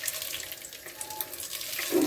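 Tap water running steadily into a sink while an antique French copper piece is rinsed, a close, continuous splashing hiss over the whole short span.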